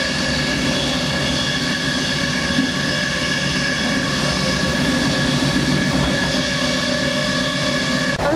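A continuous, even rumble fills the inside of a moving train compartment, a steady loud drone of rolling wheels and carriage noise with a faint tonal hum and no voices.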